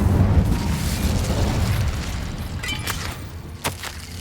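A fiery Incendio spell blast in Hogwarts Legacy, a loud roaring burst that sustains and then fades into lighter crackles and clicks.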